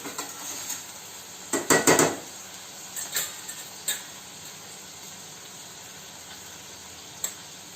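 Large pieces of green chilli fry in a pan with a soft, steady sizzle, while a utensil clinks and scrapes against the pan in a cluster of sharp knocks and a few later taps.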